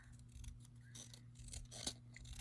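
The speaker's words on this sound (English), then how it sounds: "I'm just going to cut these apart." Scissors snip through paper to cut stamped Halloween card pieces apart, a few quiet, crisp cuts spaced unevenly over a steady low hum, with one sharper snip near the end; no one speaks.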